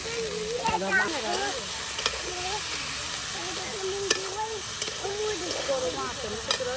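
Bottle gourd tossed into a pan of fried chopped onions sizzles steadily with occasional stirring scrapes, close and constant, while people talk over the frying.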